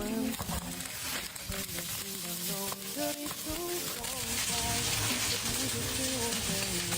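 Chili and preserved vegetables stir-fry in a pan with salt, a steady loud sizzle with scraping stirs, while a voice talks over the cooking.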